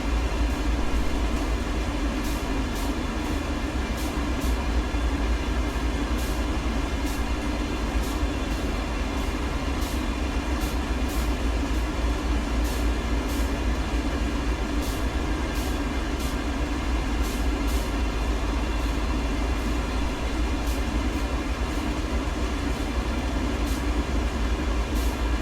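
A CSX freight train in the Train Sim World 2 simulation rolls through the Sand Patch mountain grade, a steady low rumble with regular light clicks running throughout and no voices.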